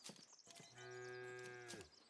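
A single cow in the farming game Foundation gives one clear, drawn-out moo of about a second. Other soft farm and game ambience sounds come just before and after it.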